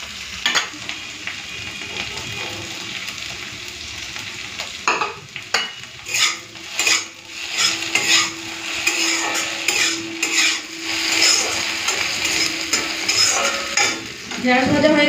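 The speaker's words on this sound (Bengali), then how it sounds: "এই যে দেখুন ঢেঁড়সটা হালকা ভাজা ভাজা হয়ে গেছে। এখন আমি পেঁয়াজ কুচিটা দিয়ে দেবো।" Okra and chopped onion frying in a pan, a steady sizzle with repeated scraping stirs and clinks of a utensil against the pan, close and fairly loud with no talking.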